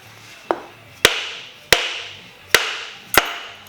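Five sharp, evenly spaced knocks as an engine part is hammered into place during an engine assembly, each ringing briefly and decaying, loud and close with no speech.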